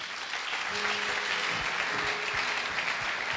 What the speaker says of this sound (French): Est-ce qu'on peut d'abord acclamer pour le Saint-Esprit?